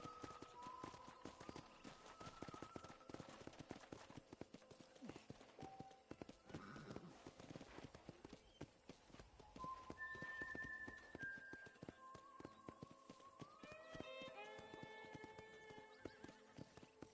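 Rapid clip-clop of galloping horse hooves in Red Dead Redemption runs continuously under tonal music, with a horse whinny partway through.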